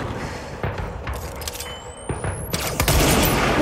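Gunfire in the action video game Control: sharp, loud bursts of shots and impacts scattered over a few seconds, with a rising whine and game effects in between.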